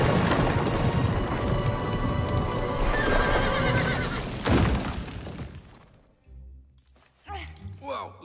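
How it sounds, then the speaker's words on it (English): A horse whinnies loudly amid clattering and a crash, then louder neighs and snorts follow after a brief lull, with voices mixed in. "That's the horse."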